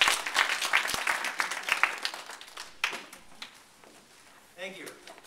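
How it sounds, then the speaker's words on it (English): An audience claps for a senior speaker being introduced at a morning event, a burst of close, lively applause that thins out over a few seconds before a voice briefly starts up. "how about a nice round of applause for Senior"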